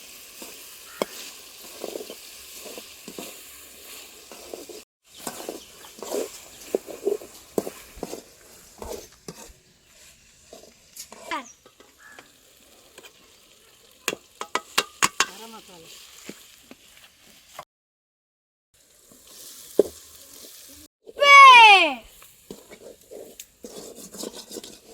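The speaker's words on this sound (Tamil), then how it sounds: "தக்காளி போட்டுக்கலாம். கரண்டியில கிண்டிக்கலாம். இஞ்சி பூண்டு பேஸ்ட் சேர்த்துக்கலாம்." Tomatoes and ginger garlic paste stirred with a ladle in a pan, a soft sizzle with repeated scraping strokes, a few clatters, and a rising clang near the end.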